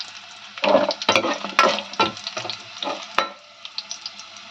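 Onions and green chilies frying in oil for a garfish curry, bursts of crackling sizzle with repeated stirring scrapes of a spoon, close and fairly loud.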